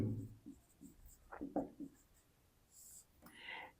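Pen or marker writing by hand during a Hindi-language seventh-grade geometry lesson on lines and angles, heard as short scratchy strokes in a quiet room, with brief bursts of faint speech and rustling.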